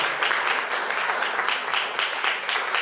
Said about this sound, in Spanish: Es un aplauso enorme